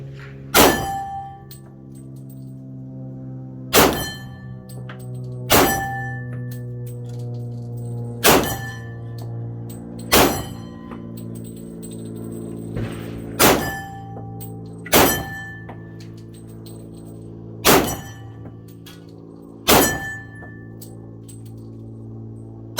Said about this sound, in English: So let's go ahead and shoot down at these targets.